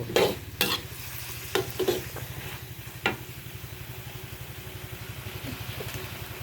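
Pork, kale and mushrooms stir-fry with a constant sizzle over a low steady hum, punctuated by a few sharp clanks of a utensil against the pan.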